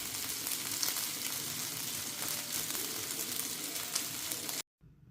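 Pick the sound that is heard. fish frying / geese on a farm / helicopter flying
fish frying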